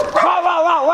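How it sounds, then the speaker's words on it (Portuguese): A dog lets out a loud, close, drawn-out whining yelp with a wavering pitch, brief and strained rather than a clean bark. "cachorro não para de latir"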